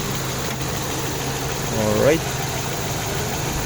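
A 2020 MG car, prone to shaking in reverse especially with the air conditioning on, idles with a steady, close, low mechanical hum, and someone speaks briefly over it.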